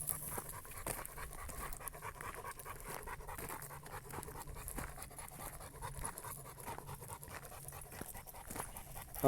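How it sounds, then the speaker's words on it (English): An old, tired dog pants steadily on a busy forest walk, quick rhythmic breaths close by and fairly soft, continuing alone throughout with light rustling underneath. "Okay, Bear, you big tired dog."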